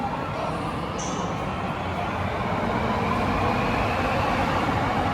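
A train pulls out of Girgaon station with a steady rumble and rolling wheel noise over a hum, and a brief high squeal sounds near the start. No speech is heard.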